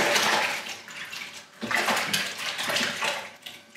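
Foiled fishing lures are washed by hand in a basin of water, giving repeated sloshing and splashing swirls that rise and fall in bursts. The sound is close and fairly loud, with no talk.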